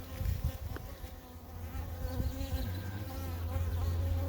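A small artificial swarm of honeybees buzzes around the hive close by, a dense, wavering drone with individual bees passing near and away.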